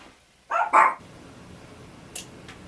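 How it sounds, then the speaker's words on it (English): A dog barks twice in quick succession at moderate distance, followed by a couple of faint, brief yips after a quiet pause. "hopefully the dogs will stop barking for us"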